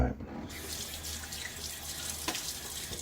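A bathroom tap runs steadily into a sink during a wet shave, a soft continuous splash of water that stays fairly quiet throughout with one brief louder gush partway through.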